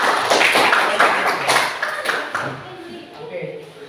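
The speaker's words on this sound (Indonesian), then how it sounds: "Tepuk tangan dulu untuk kelompok 1." Classmates clap for a group after their presentation in a teacher-training lesson, a short patter of hand claps that starts fairly strong and tapers off, with voices mixed in.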